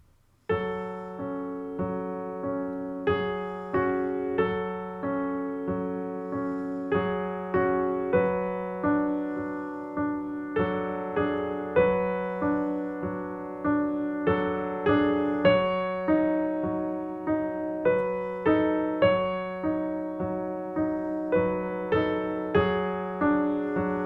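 Both hands play a piece on piano, a low sustained bass under a repeating melodic line, notes struck steadily and overlapping into a rich, ringing texture, close and alone without speech.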